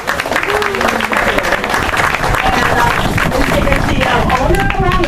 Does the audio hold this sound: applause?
yes